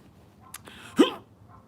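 A stifled sneeze, a short muffled nasal burst preceded by a small catch of breath, heard close and alone.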